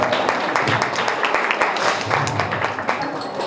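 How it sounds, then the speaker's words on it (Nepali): An audience at a memorial ceremony for a guru applauds with dense, continuous clapping that fills the hall, while voices murmur underneath. "एकपल्ट सबैले ताली बजाएर उहाँलाई सम्मान पनि गरिदिनु म हार्दिक अनुरोध गर्दछु"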